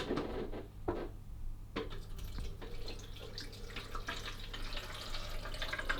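Water being poured into the tank of a Bosch Tassimo Suny coffee machine, faint splashing and trickling in short bursts, followed by plastic handling sounds in a quiet room.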